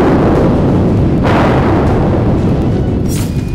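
Heavy bombardment from missile strikes on Ukrainian cities booms in a loud, saturated rumble, with a sharper blast near the middle and sustained roar throughout.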